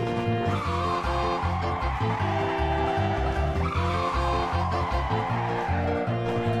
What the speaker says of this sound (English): I'm about to do a sweet e-brake turn.